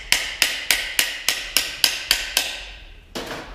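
A small hammer taps on a window part of a 1995 Ford F-150 truck: about ten sharp, evenly spaced metallic knocks in quick succession, then a short pause and one more tap, close and alone.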